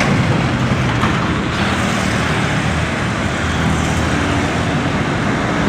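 Loud, continuous roadway roar of heavy trucks, including a Toyota Dyna Rino and a Hino 500, passing nearby on a highway, a dense rumbling wash of engine and tire noise with no voices.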